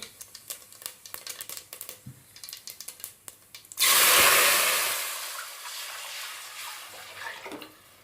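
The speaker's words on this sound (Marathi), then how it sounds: "जिरं फुललेलं आहे ह्यामध्ये मी पाणी घालते" Water pours into a pot of hot oil with bloomed cumin seeds on a gas stove, bursting into a loud, sudden sizzling hiss that fades gradually after light kitchen clatter.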